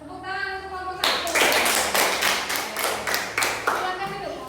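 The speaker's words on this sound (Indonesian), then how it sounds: "Tepuk tangan untuk kelompok 1." Students in a classroom clap for a student group after its presentation, a burst of applause that starts suddenly and carries on in several loud swells. A teacher's voice is audible before the clapping begins.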